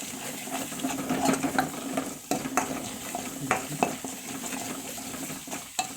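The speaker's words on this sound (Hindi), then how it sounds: "हम इसको प्रॉपर मिक्स करेंगे।" Liver stirred with masala in a pan over low heat, heard as a continuous soft sizzle under repeated scraping and clinking of a utensil against the pan, at moderate loudness.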